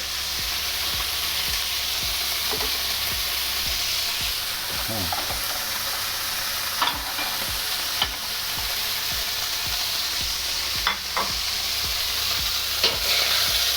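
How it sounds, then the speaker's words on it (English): Beef sears in a pan for Cantonese tofu beef, giving a continuous moderate sizzle with a few scattered pops and light clicks, no voices. "Leave it alone for about 20 seconds. Just let the beef sear."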